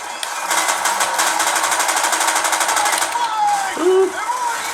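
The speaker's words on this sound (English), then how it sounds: "Oh, I just got hit by a grenade." Rapid gunfire rattles in a first-person shooter played on a low-end laptop, followed by a short grenade burst, under a voice talking.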